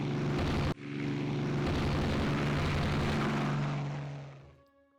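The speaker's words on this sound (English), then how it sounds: "oh, look, it's friendly aircraft" A friendly propeller aircraft passes in the naval strategy game Rule The Waves 3: a loud, steady, droning engine hum with a brief dropout near the start, then gradually fading away.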